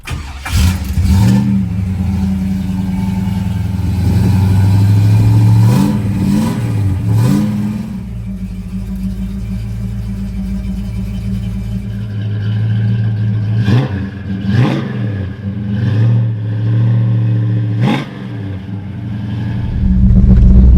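A 1966 Ford Fairlane GTA's 390 FE V8 idles with a steady rumble, then revs up repeatedly in several loud, rising bursts before settling back, close and without talk.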